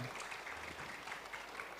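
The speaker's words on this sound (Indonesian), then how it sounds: "Tepuk tangan dulu deh buat Mas Anies Baswedan" Audience at a talk session gives Anies Baswedan a brief round of applause, a faint, distant, even patter of many hands.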